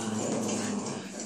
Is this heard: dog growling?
yes